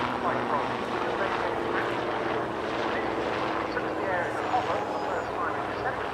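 An ex-British Army Lynx helicopter, operated by Project Lynx from North Weald, flies a display at an air show, with a steady rotor and engine drone and some wind noise beneath continuous commentary.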